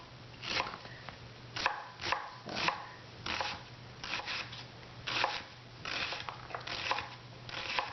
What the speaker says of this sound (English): You have to chop this. Now, I chop this way.